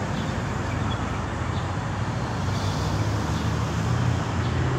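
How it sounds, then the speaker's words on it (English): Big bus passing on a road, heard as a broad low rumble of engine and tyre noise building slightly toward the end, moderately distant, with no speech. "Oh, the big bus came to make noise to take over the beetle."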